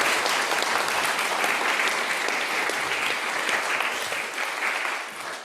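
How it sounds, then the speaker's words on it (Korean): A Korean church congregation applauding during a 40th-anniversary Sunday service: steady, full clapping from many people, even and sustained, tapering slightly at the end. "박수"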